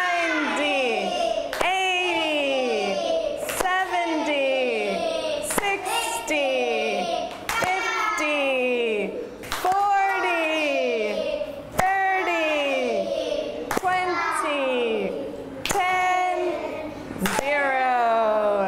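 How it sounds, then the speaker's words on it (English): Children clap their hands in unison while counting by tens in a classroom lesson, a sharp clap landing roughly every two seconds between their chanted numbers. "And for every number, I think we're gonna clap our hands."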